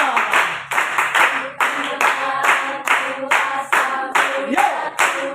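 A church congregation claps in unison to a worship song, with loud rhythmic beats recurring at a steady tempo under singing voices.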